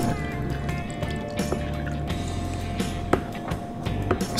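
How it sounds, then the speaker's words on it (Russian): Homemade white beer poured from a fermenter into bottles, a steady low liquid trickle and gurgle with occasional clinks and drips, fairly close and continuous throughout. "Ну что, начинаем разливать?"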